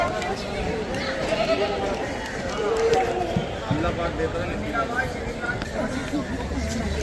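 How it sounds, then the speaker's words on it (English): Sheep of a special Uttar Pradesh breed bleat repeatedly amid a busy outdoor scene at Deonar livestock market, with people talking and general bustle over and around the animal calls. "No, they are sheep. They are special breed from Uttar Pradesh."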